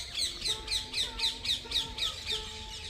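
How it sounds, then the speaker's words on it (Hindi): Parrots and pigeons around saints' huts in Vrindavan give a steady series of about ten harsh, evenly spaced squawks, fairly close and without talk. "ये तोते, कबूतर,"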